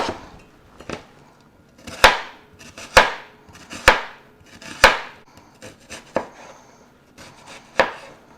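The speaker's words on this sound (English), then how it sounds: "I'm going to go ahead and chop up my onions" A sharp knife chops onions on a cutting board in an uneven series of about ten crisp knocks, close and fairly loud, with brief pauses between.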